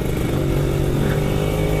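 A Kawasaki Ninja RR motorcycle engine runs at a steady idle, a loud, close, buzzing two-stroke drone with slight clatter and no change in pitch.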